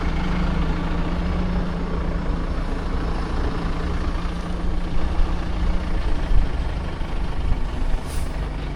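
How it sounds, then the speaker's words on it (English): An ERF lorry with a Cummins diesel engine idles at a steam and craft show, giving a steady, loud low rumble that fills the whole stretch, with a brief hiss near the end. "This one is an ERF with a Cummins diesel in it."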